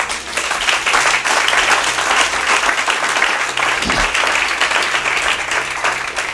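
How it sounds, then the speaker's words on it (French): A church congregation applauding during a service: steady, dense clapping from many hands that stays loud and even throughout, with no speech over it. "Acclamez pour vous-même."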